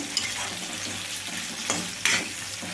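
Two medium tomatoes, cut into pieces, fry with a steady close sizzle in a pan for a Tamil Nadu-style parotta kurma, with a couple of scraping stirs breaking through the hiss.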